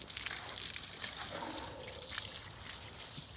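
Water streams and trickles steadily off a muddy dirt bike during washing, a faint, continuous splashing hiss with small dribbles and no talk.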